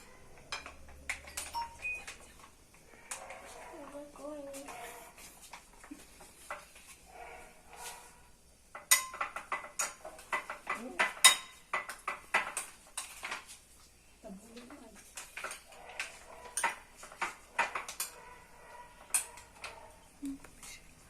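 Sauce being stirred for a microwave pizza in a home kitchen, with a run of faint, irregular scraping and light clinking of a utensil against a dish over about twenty seconds, quiet and close, and brief voice sounds in places.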